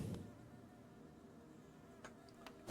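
A bee enemy buzzes in the video game Hollow Knight, a faint, thin insect drone with a couple of brief sharper flutters near the end, with no speech.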